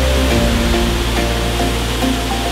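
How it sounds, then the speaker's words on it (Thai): Rushing water at the top tier of a nine-tier waterfall in Ratchaburi, Thailand, a loud, close and continuous roar of broadband noise with no voices. "ผมนี่ก็เป็นชั้นสุดท้ายของน้ำตกนี้แล้วนะครับ"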